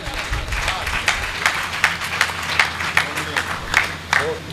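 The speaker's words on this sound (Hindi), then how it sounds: "एक बार मिलकर तालियां" Audience at a Hindi comic poetry gathering at an ashram clapping to welcome a poet, a rhythmic wash of claps with sharper beats, mixed with crowd murmur and a low background rumble.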